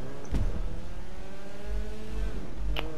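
A car drifts in the GTA 5 video game, its engine droning and revving with tire noise, fairly close and loud, with brief bursts of sound partway through.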